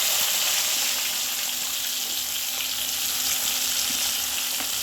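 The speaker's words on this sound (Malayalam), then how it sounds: "അത് ഈ എണ്ണയിലോട്ട് ഇട്ട് കൊടുത്ത് ഒന്ന് വറുത്തെടുക്കണം" Thin, lengthwise-sliced onions fry in hot oil left over from frying chicken, giving a loud, continuous close-up sizzle and hiss with no voices.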